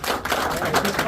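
Crowd clapping at a Christian business seminar, a brief even burst of many hands that fills the whole moment and fades slightly at the end, with talk mixed in.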